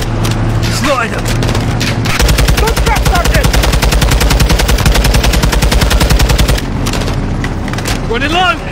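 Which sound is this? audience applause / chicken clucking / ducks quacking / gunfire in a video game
gunfire in a video game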